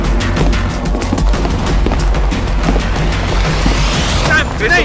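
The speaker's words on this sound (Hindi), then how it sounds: "अरे गोली चली, भागो।" Rapid bursts of gunfire crackle amid a loud, chaotic scene in a Hindi-dubbed action movie, with shouting voices mixed in over a steady low rumble.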